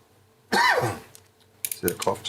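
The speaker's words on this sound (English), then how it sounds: "the cough just comes out of nowhere" A single sharp cough bursts out, followed moments later by a couple of rougher throat-clearing coughs.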